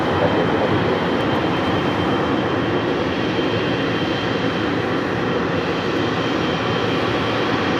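A Philippine Airlines airliner, flight 113 bound for Manila, is pushed back at LAX, its engines a loud, constant, even whine and rumble that holds without change for the whole stretch, with no voices.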